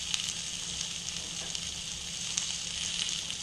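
A haunch of venison sears in a pan with a knob of butter, giving a steady, close hiss of sizzling fat with small crackles and pops scattered through it and no voices.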